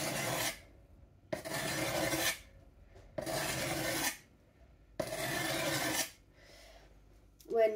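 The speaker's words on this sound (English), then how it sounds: "When you've sharpened your knife" A file rasps along the curved edge of a sheath knife in four steady, evenly spaced strokes, each about a second long and close up, with short quiet pauses between them.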